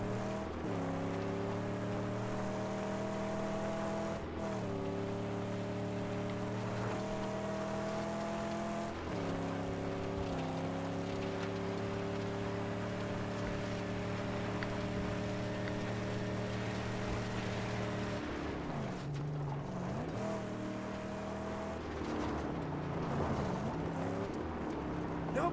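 A car engine in the Mad Max video game drones with a loud, steady growl, its pitch briefly rising and falling with each rev and gear change, then wavering near the end.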